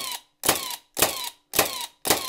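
A Milwaukee cordless nailer bump-firing nails into loose pieces of wood, five sharp mechanical bursts at an even rhythm about half a second apart, loud and close with no talking.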